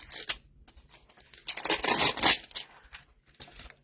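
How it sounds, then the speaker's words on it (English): A protective backing layer being peeled off a stamp set, a broadband tearing and crinkling rasp that swells near the middle and fades, close and fairly quiet, with a few small handling clicks before and after. "So let's just peel this layer off."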